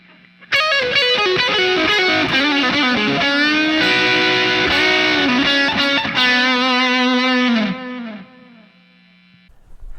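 A distorted electric guitar plays a fast, flowing legato lick with sustained bent notes, loud and alone, ringing out before fading into quiet.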